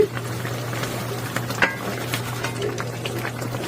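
Korean sea fish curry bubbles steadily in a pan, a continuous close simmer of small pops and gurgles over a low steady hum, with no talking.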